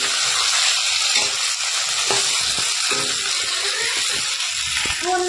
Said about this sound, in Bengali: বন্ধুরা দেখো সেদ্ধ করা আলুগুলোকে ভেজে নিচ্ছি